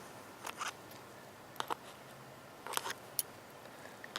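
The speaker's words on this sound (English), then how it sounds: "I'll cut every limb off." Scissors snipping the limbs off a young pepper seedling, a few short, sharp clicks in pairs spread across a quiet background.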